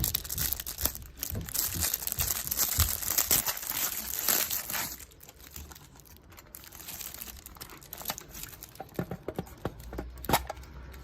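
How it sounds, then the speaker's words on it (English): Crinkly plastic rustling and snipping of scissors cutting into the packaging of a craft cart, with bursts of crackling and sharp cuts, close up and no talking. "Let me get the scissors to open it."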